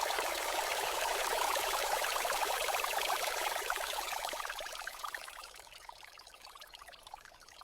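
Water splashes and pours in a story sound effect of water thrown onto ducks, a soft, steady watery rush that gradually fades quieter toward the end.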